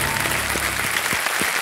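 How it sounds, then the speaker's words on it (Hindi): A studio audience on the quiz show Kaun Banega Crorepati breaks into loud, sustained applause, a dense wash of clapping with a few brief low thumps underneath. "तालियां बज जाए इनके लिए।"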